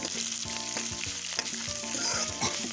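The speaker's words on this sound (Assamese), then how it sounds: "জুইটো কমাই লৈ এই পিঁয়াজটো এনেকৈ অকণমান ভাজি লৈছোঁ।" Onion sizzles and fries over low heat in a pan with a steady crackle, punctuated by repeated scraping stirs, close and continuous, no voices.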